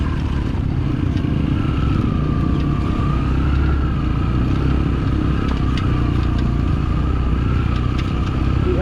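A motorcycle labours up a steep, difficult road climbing back from a waterfall toward a parking area, its engine droning loud and close at a steady, strained pitch throughout, with no talking.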